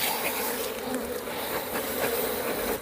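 Honey bees swarm around a beehive in a steady, dense buzzing drone that fills the air without pause, moderately loud with no voices.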